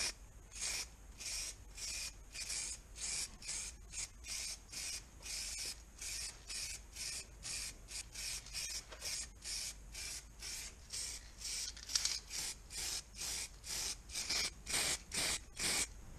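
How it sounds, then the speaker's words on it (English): Primer being sprayed onto car brackets during a classic Mini restoration, heard as a steady run of short hissing bursts in quick rhythm, close and moderately loud, with no talking. "Let's put some primer on this."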